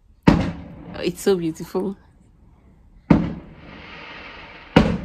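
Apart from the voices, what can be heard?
fireworks exploding outside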